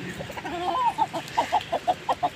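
Chickens cluck close by, a rapid run of short rhythmic clucks following a longer drawn-out call, with no one talking.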